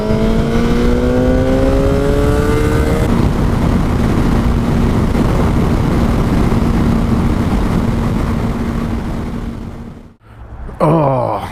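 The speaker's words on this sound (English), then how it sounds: "We've got a proper sporty vehicle here, not your pretend one." A sporty vehicle accelerates hard, its engine note climbing in pitch before settling into a loud, sustained roar. Near the end the sound briefly drops out, then returns.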